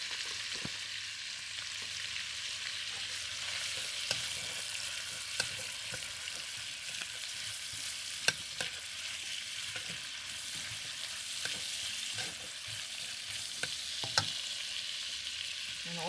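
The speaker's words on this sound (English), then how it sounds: "I stir fry the white onion first" White onion stir-frying in a hot pan, a steady close sizzle with occasional sharp clicks and scrapes from stirring, no talking.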